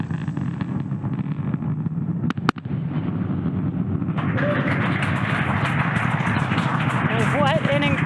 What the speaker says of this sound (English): we watch the side boosters touch down for landing